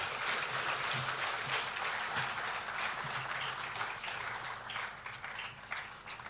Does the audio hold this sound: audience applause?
yes